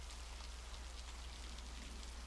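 Heavy rain pours down outside in a dense, continuous hiss of drops hitting surfaces. The sound is steady throughout, with a low rumble underneath, and no voices are heard.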